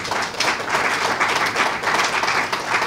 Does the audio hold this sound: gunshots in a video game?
no